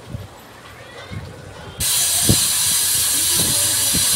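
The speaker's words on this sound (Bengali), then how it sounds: "তো ছেলের টিফিন আর ভগবানের সেবা দুটো মিলিয়ে পিঠাটা ভেজে নিচ্ছি।" Rice cake pitha frying in hot oil, a quiet crackle for the first couple of seconds that swells abruptly into a loud, steady, hissing sizzle, close and continuous, with a few soft knocks underneath.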